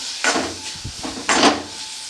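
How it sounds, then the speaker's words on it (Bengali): Carrot halwa with powdered milk is stirred in a pan, two close, scraping swishes of the spoon with a soft knock between them, with no talking. "পাউডার দুধ দিয়ে এটা ভালোভাবে আমি এর সঙ্গে মিশিয়ে নেব।"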